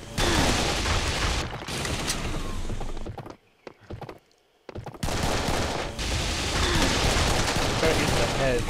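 Rapid gunfire from the Serious Sam 3 video game rattles in dense bursts, loud and continuous, breaking off into a short near-silent gap with a few isolated thumps before the shooting resumes.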